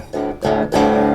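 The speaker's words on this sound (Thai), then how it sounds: "อ่านี่คือเสียงกีตาร์ผมที่เสียบเข้าไปใน Input ของ" Three short strummed chords on a clean electric guitar plugged directly into an audio interface, each ringing briefly before the next, close and fairly quiet.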